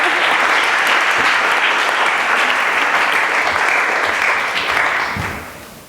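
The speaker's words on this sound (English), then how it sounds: "Give a round of applause" A lecture audience claps continuously to welcome a speaker at the Gold Room Lectures, dense and loud throughout before fading away at the end.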